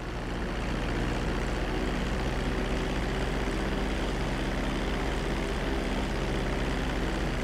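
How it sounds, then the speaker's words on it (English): Airplane in GTA V flight school approaching and landing on a runway, a steady loud engine drone with low rumbling harmonics that holds constant throughout, with no talk. "Start reducing the plane's altitude gradually so you're just above the runway as you approach."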